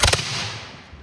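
An 18th-century reenactment musket volley fired outdoors at an autumn festival: one sharp, loud blast of several muskets almost at once, then a rolling echo that fades away.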